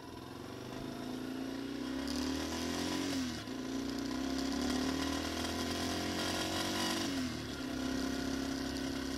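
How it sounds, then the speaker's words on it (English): A Yamaha XT250 motorcycle is ridden on a gravel road, its single-cylinder engine droning loud and close with rising and falling revs and two brief throttle dips, wind rushing over it. "So little XT250 is doing real well on roads like this."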